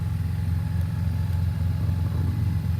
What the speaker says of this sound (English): here it is, last cold start